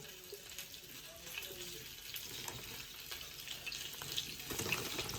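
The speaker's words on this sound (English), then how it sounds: "We're going to fry these until they're nice and crispy." Frozen Nathan's onion rings frying in heated oil that is not yet very hot, a steady broadband hiss close by, gradually growing a bit louder, with no talking.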